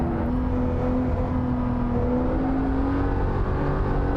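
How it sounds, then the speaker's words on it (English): A Singer Porsche 911 engine revving hard under heavy throttle in Assetto Corsa, a continuous loud drone with a steadily rising engine note, no voices over it. "Hard on the throttle. I can accelerate much harder out of turns."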